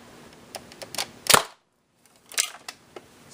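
A Buzz Bee Tactical Storm toy blaster fires long distance darts, giving a couple of sharp, close pops with mechanical clicks around them and a brief silent gap between the shots.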